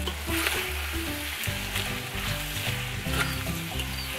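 Cabbage and spicy Korean dak-galbi chicken stir-frying in a pan, with a steady, loud sizzle and hiss running throughout and a low, humming tonal background underneath.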